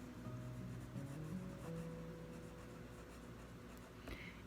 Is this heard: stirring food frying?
no